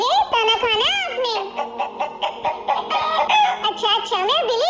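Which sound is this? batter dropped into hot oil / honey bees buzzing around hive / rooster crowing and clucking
rooster crowing and clucking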